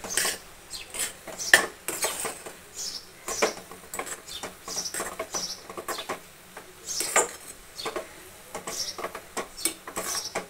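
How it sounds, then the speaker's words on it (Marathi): Roasted ragi semolina goes into a pan of boiling water with jaggery and is stirred, giving a steady run of close scraping and clinking from a utensil against the metal pan. "आता आपण हा भाजलेला रवा याच्यात टाकूया आणि मस्तपैकी परतून घेऊया."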